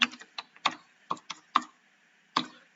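Keys clicking on a computer keyboard while entering text in accounting software, sparse uneven taps and short bursts of several strokes with pauses between, close and moderately quiet with no talking.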